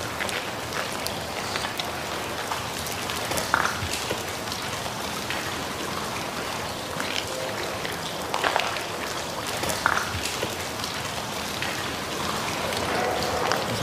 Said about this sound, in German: Mal gucken, ob es noch regnet.